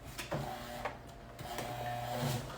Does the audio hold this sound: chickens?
no